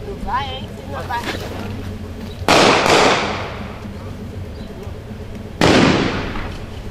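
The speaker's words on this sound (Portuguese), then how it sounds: "Atirando para quanto é lado." Gunshots in a street during a bank robbery in Campos de Júlio: two loud, sharp blasts a few seconds apart, each with a long echoing decay, after faint voices.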